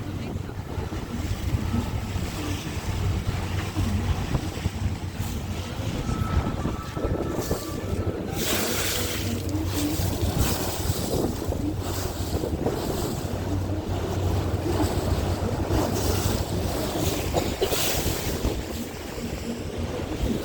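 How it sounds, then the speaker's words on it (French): Wind buffets a microphone aboard a boat cruising the Seine in Paris, a loud continuous rumble and gusty roar with water and engine noise beneath, lasting the whole stretch. "Il y a du vent."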